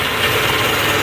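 Power drill boring small holes in the metal mounting plate of an RV table, a steady high-pitched whine running the whole time, close and loud with no voices.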